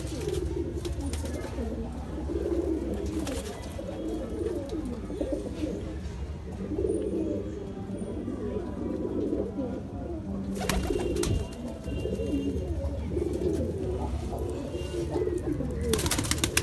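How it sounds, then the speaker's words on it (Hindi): Green Madrasi pigeons coo in a low, steady murmur throughout, part of a flock of about fifteen birds at a pigeon sale, with someone talking over them. "बहुत ही अच्छी क्वालिटी का कबूतर है दोस्तों"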